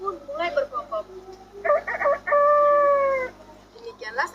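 A storyteller vocally imitates a rooster crowing, a long drawn-out harmonic crow rising from the speech, alone and close, with speech before and after it.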